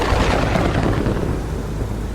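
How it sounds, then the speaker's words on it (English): Thunder rumbling over a storm at sea in an audio drama, a loud, broad roll that swells early and slowly fades, with a rain-like hiss beneath and no voices. "The storm must have changed course"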